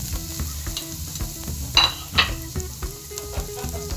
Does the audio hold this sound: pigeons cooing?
no